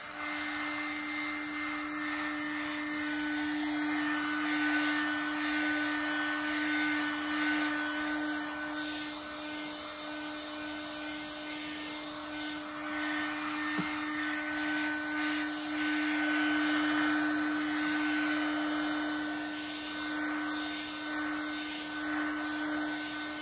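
A heat gun blows hot air in a steady, unbroken whoosh with a constant whine running through it, close and sustained for the full length.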